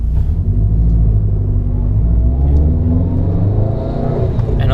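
A Subaru WRX hatchback running on E85 pulls hard in second gear, its loud, steady engine roar and exhaust rumble filling the whole stretch close to the microphone.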